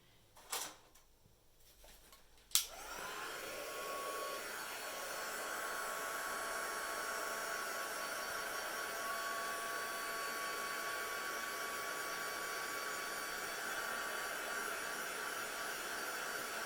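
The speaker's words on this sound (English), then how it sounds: "I'm just about to turn the heat gun on." A heat gun blows steadily and loudly for the entire stretch after a brief click as it switches on, drying embossing paste, a constant airy roar with a whine on top and no talking.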